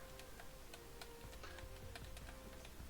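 Quick, crisp keystrokes on a computer keyboard, tapping in an irregular run at close range and fairly quiet, with no voices.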